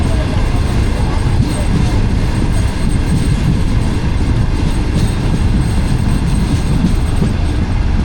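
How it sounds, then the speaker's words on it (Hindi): Pak Business Express train running from Karachi to Lahore gives a loud, steady rumble and rattle heard from inside as it slows at a red signal. "इससे ट्रेन मज़ीद स्लो हो गई है और स्टॉप डेड करेगी।"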